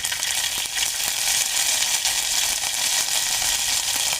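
Garlic paste fries in an oiled pan with curry leaves, giving a steady, dense sizzle that holds at an even loudness for the whole stretch, with faint scraping ticks scattered through it.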